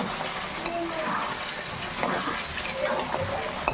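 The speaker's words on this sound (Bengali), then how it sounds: "এটাকে কিন্তু ভালো করে কষতে হবে, তবেই কিন্তু মাটনটা টেস্ট ভালো হবে" Mutton being stir-fried kosha-style in a pan: steady sizzling and frying hiss with occasional stirring scrapes, continuous and close.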